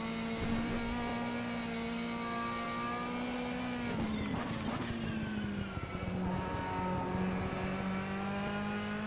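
A Ferrari 458 GTE race car engine in rFactor 2 drones steadily at high revs with rich harmonics, dipping briefly through a gear change midway before settling back to a loud, sustained note with no talking.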